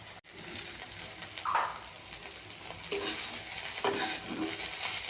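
A bhaji of potato, onion and shrimp stir-fries in a pan with panch phoron and dried chilli, a soft continuous sizzle broken by a few spatula scrapes, quiet and close with no talking.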